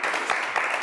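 A studio audience at a televised talk show claps in a dense, steady burst of applause that fills the short moment at an even, fairly strong level.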